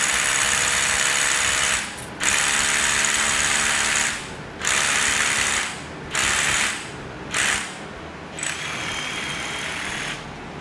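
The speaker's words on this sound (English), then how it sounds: "Now let's drill some holes." A power drill whirs in long bursts, stopping and starting several times with short pauses between, loud and close, drilling holes into new concrete while installing a BendPak two-post lift.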